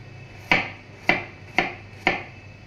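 Four sharp knife chops on a cutting board as garlic is minced finely for a home-cooked lunch, evenly spaced and close, with a low steady hum underneath.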